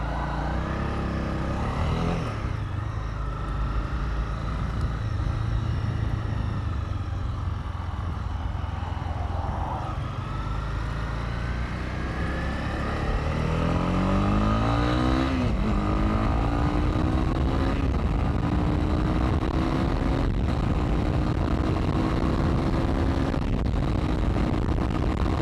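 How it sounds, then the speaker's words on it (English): A 2019 Honda CB300R cruises steadily on the highway, its engine droning continuously under strong wind roar, the pitch climbing through a gear change midway before settling into a sustained higher hum. "So yeah, it does fine on the highway."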